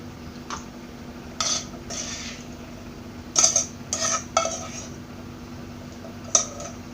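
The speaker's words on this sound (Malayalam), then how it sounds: "ഇനി ഇത് 3 ചെറിയ ബൗളിലേക്ക് മാറ്റാം." A spoon scraping and clinking against small bowls as a papaya mixture is portioned out, with scattered sharp taps and dull clanks over faint room noise, close-up and without talking.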